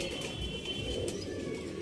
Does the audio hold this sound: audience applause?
no